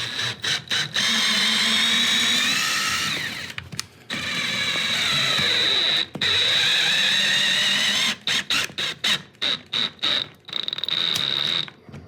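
A power drill whines steadily in long bursts while drilling holes into a brick wall for a TV mount, stopping and restarting several times, with short rapid on-off pulses toward the end.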